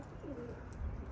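Tumbler pigeons coo outdoors in a short, soft low burst, a single throaty call rising and falling close by against a steady low background hum.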